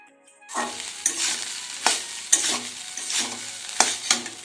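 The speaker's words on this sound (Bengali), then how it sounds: "আজকে বাসি ভাত ছিল, তો ভাতগুলোকে একটু ফ্রাই করে নিচ্ছি।" Leftover rice fries in a pan with onion and coriander leaves under a steady sizzle, while a spatula scrapes and turns it in sharp, regular strokes close up, with no voices.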